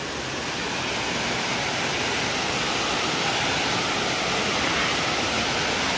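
Steady, full roar of the waterfall at Cachoeira do Roncador, a rural Brazilian falls with modest flow, heard close and loud as an unbroken rush of water with no voices.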